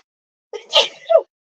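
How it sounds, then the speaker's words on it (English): A single person's sneeze, close and loud: a short sharp inhale followed by an explosive burst and a quick trailing vocal exhale, alone in silence. "sorry, hold on, I gotta sneeze."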